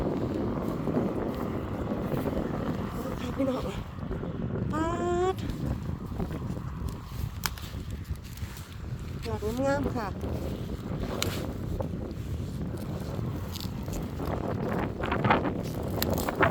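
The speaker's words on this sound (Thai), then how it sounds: "ฝนตกเปียกฝนแน่แน่ ทั้งฝนทั้งลมค่ะ" Gusty wind and rain buffet the microphone outdoors in a vegetable garden while someone talks throughout, her voice rising in brief exclamations over the steady blustery roar.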